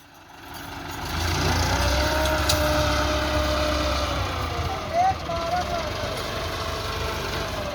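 A Massey Ferguson 385 tractor engine runs steadily in a low, continuous drone at a moderate distance as it tries to pull out a Bull Power tractor, with a brief louder rev near the middle.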